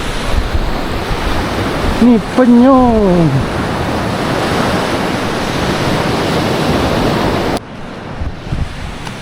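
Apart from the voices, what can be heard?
ocean waves on Kuantan beach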